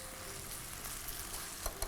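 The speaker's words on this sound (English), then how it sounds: "we are stir frying the noodles now with the lovely pad thai sauce" Vegetable pad thai noodles stir frying in pad thai sauce over a very high flame, a steady close sizzle with faint stirring scrapes and no talk.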